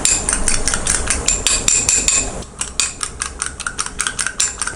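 Rapid, steady clatter of a utensil whisking an onion, chilli and spice mixture in a bowl up close, with dozens of quick metallic taps that pause briefly midway before resuming.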